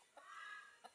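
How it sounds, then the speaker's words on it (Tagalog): Hens offered for sale give soft, brief clucks, two short calls about a second apart against quiet background hiss. "Mga inahin to."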